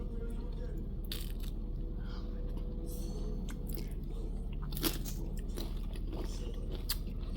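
A person bites into and chews a hot, freshly made chip bought at a farmer's market, giving soft repeated crunching close to the mic over a steady background hum, with people talking nearby.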